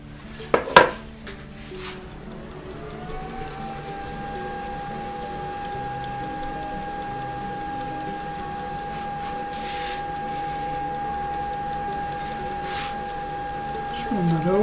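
A wood lathe turns a pen at low speed during polishing, a steady mechanical hum holding for over ten seconds after a few brief clinks at the start, with faint room noise around it.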